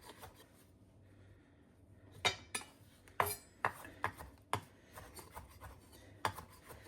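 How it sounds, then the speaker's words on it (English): Knife chopping fresh parsley on a cutting board while preparing spanakopita, a series of sharp, irregular taps and scrapes that come close and fairly loud, bunched in the latter part of the clip. "I am chopping up the herbs. Right now this is parsley"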